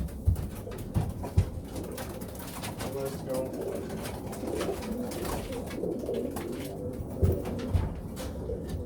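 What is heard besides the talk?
racing pigeons cooing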